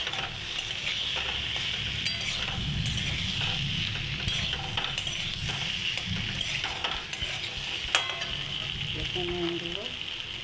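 Potatoes frying in spiced oil in a pan for aloo dum, a loud, steady close-up sizzle running throughout, broken by scattered stirring scrapes and clinks of a utensil.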